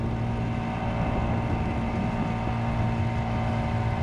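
At full throttle, the 50cc KB V3 outboard drive on a Crescent K-Craft small boat holds an unbroken, loud motor hum with wind buffeting the microphone.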